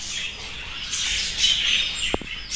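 Budgerigars in a breeding aviary chirp and squawk continuously, a busy chatter of high calls from several birds, fairly close, with a couple of brief knocks near the end.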